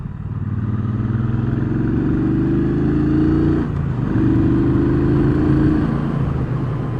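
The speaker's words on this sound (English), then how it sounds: "The big 1200 liquid cooled high torque engine just growls away and sounds absolutely lovely." A 2019 Triumph Speedmaster 1200 liquid-cooled motorcycle engine revs steadily nearby with a deep, refined growl, rising in pitch twice with a brief dip between, loud and continuous without talk.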